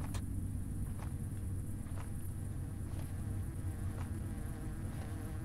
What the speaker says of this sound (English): Why are there so many damn bees?